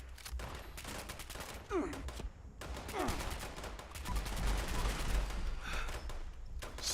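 Rapid gunfire bursts in Fallout 76 while clearing out a workshop, sharp repeated shots in quick volleys with a player's voice speaking in between.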